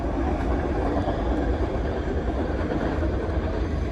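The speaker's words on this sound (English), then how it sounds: "High rail truck racing the train" Train crossing a bridge with a hi-rail truck running alongside, a steady, moderately loud rumble and rattle of rolling cars without a break, and no voices.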